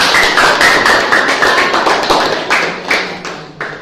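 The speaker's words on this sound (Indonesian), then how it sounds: "Mari kita tepuk tangan untuk kita semuanya." A class applauding together, with a rapid, steady patter of many hands that fades slightly over a few seconds, close and without talk.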